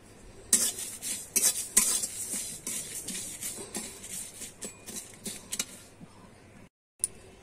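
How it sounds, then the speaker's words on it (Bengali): A utensil scrapes and clatters against a pan in a quick irregular rhythm while whole spices and dried red chillies sizzle faintly in oil, then a brief pause and one last clink. "আমি এগুলো ভালো করে নেড়ে চেড়ে ভেজে নেব"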